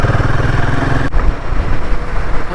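A motorcycle engine runs loud and close during a monsoon ride from Mumbai to Pune, its steady droning hum breaking off about halfway through into rougher, uneven engine and road noise.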